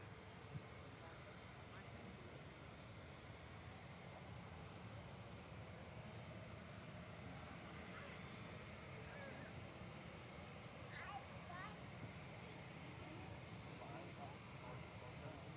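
Cathay Pacific Airbus A350-900, registration B-LQE, taxiing along a taxiway at Manchester Airport for departure to Hong Kong, a steady distant jet engine rumble and whine holding at an even level throughout.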